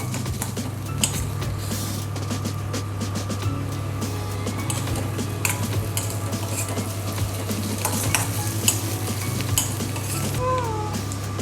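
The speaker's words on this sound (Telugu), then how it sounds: "మన పన్నీర్ ఫ్రై అయిపోయిందండి." Homemade paneer frying in a pan gives a dense, steady sizzle near and loud, with frequent small scrapes and clinks of a utensil against the pan throughout.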